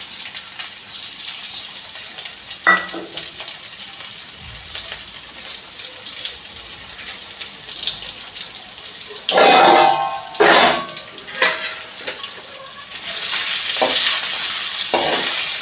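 Homemade ginger garlic paste fries in a pan for street-style pav bhaji, a steady low sizzle with intermittent scraping stirs and louder bursts of hiss and clatter, plus a run of water near the end.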